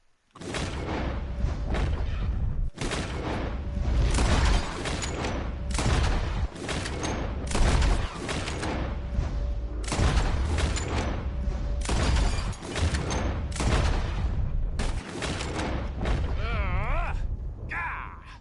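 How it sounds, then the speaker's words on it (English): Repeated gunshots ring out in a Red Dead Redemption 2 bottle-shooting contest, loud sharp cracks every few seconds over a steady background of game ambience, with voices talking in between. "Whoever shoots the most bottles wins"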